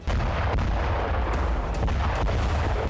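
A loud, continuous roar of blast and rumbling noise with sharp cracks scattered throughout, like a powerful explosion on a ship struck by a surface drone, heard through distorted recording.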